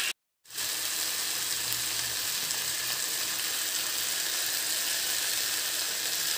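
Okra frying on high flame for bhindi masala: after a brief silent gap, a loud, dense, continuous sizzle fills the rest, steady and close with faint stirring underneath, no voices.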